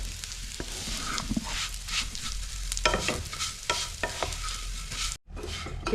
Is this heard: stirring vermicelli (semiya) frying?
yes